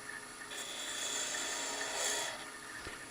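A wood lathe turning a taper on a letter opener gives a soft, steady scraping hiss as the tool rubs the spinning workpiece, quiet and continuous with a faint tap near the end.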